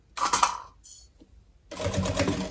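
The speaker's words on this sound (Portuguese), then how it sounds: "Eu vou costurar aqui primeiro os pontos principais, como eu sempre faço" A sewing machine stitches a tote bag in two bursts of close, rapid mechanical clatter, separated by a short pause with a few light clicks.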